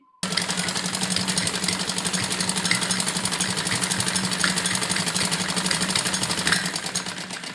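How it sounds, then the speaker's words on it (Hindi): A sewing machine runs steadily, stitching the joined sleeve seams of a girl's full-sleeve pleated frock, with a continuous loud mechanical whir and rapid needle rhythm, starting abruptly and holding without pause. "और अब हम इसके ऊपर, दोनों जोड़ के ऊपर जो ये हमने जोड़ लगाए हैं, इन पर सिलाई करेंगे अपने दोनों बाजू के।"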